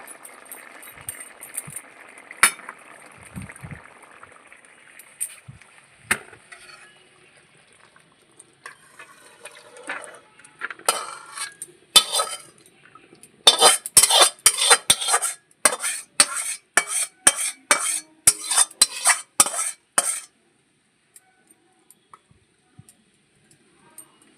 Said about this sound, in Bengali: মাংস আমার রেডি হয়ে গেছে এখন আমি ঢেলে নেবো